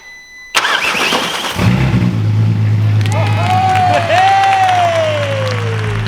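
A 3.2 V6 in an MK5 VW Golf R32 cranks briefly, catches and fires into a loud, steady idle, close by, with people talking and a rising whistle over the running engine.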